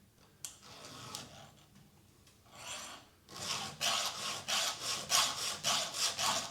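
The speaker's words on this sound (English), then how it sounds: "Some people just rub a file on there." A hand file scrapes across chainsaw chain cutters: a few scattered scratches, then a steady run of rhythmic rasping strokes, close and clear.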